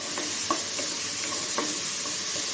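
Soup ingredients being sautéed in a pan, a continuous close frying hiss with a few light spoon taps and stirring scrapes scattered across it.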